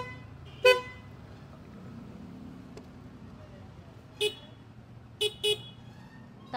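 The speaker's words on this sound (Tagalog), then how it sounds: "ito yung loud horn niya." A Honda Fazzio scooter's loud aftermarket horn gives four short, sharp toots: one early, then a gap, then three more in quick succession, loud and close over faint background hum.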